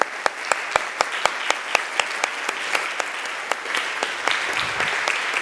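An audience at an education and economic development congress applauds to welcome a professor onto the panel, with sharp claps falling in a fairly even rhythm and a steady wash of clapping underneath, moderately loud.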